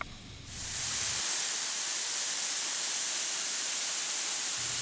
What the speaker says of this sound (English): Communication is difficult with the noise of the waterfalls reverberating off the giant walls.